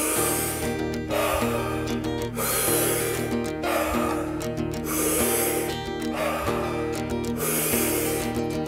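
Rapid power breathing in a breathwork session, a quick loud sequence of forceful breaths repeating in bursts over a steady musical backing.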